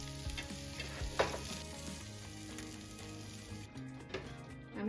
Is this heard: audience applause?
no